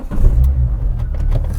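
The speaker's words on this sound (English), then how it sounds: "We're gonna turn it on and see how this thing now idles." A Renault Clio 172 engine idles close by with a steady, loud low rumble and a slight uneven pulse, running throughout with no talking.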